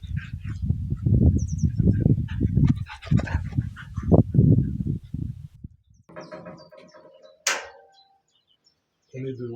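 A dog plays close by, panting and making yelping, honking vocal sounds in busy bursts, then a few sharper cries before a brief silence.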